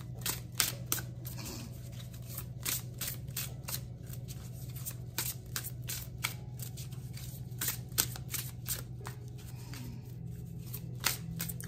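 Tarot cards shuffled by hand before drawing a final card: a quick run of crisp, close snaps and riffles, repeating steadily over a low, constant hum.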